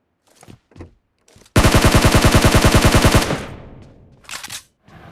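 A SCAR-L assault rifle in PUBG Mobile fires one sustained, rapid burst of about two seconds, loud and evenly paced, trailing into a fading echo, with a few faint scattered sounds before and after.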